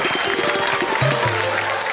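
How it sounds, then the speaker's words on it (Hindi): Audience applause at a Hindi comedy and poetry stage show, a dense steady wash of clapping lasting throughout, with a low tonal hum and faint voices underneath. "तालियां बजाओ"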